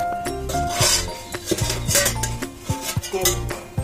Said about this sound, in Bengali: এবার একটু ভালো করে ঝাঁকিয়ে এপিট ওপিট করে ঝাঁকিয়ে